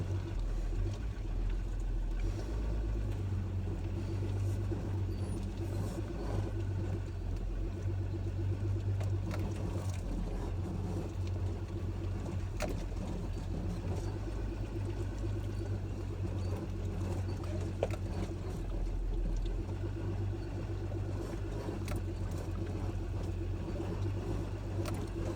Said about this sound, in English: The old ram is just above an idle. And it just crawls up this stuff.